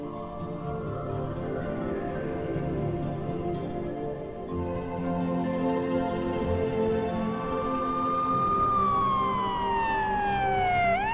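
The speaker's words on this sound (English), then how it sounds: "she heard sirens outside" An emergency siren wails outside a church, rising and sweeping in pitch over a steady rumble of traffic, growing louder toward the end.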